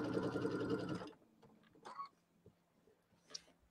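A sewing machine stitches quilt seams on a large quilted pillow in one fast, even whirring run of about a second, followed by faint handling clicks and rustles.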